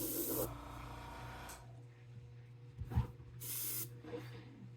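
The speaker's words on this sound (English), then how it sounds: "we don't want to spray too much paint" Short hissing bursts from an airbrush spraying paint onto a square bill crankbait lure, two or three sprays separated by pauses over a faint steady hum of equipment.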